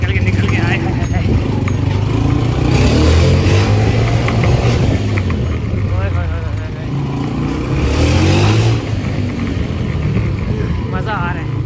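A Honda motorcycle squeezes through a lane barely wider than its handlebars, its engine a loud, steady drone with rising and falling pitch and heavy wind rumble throughout.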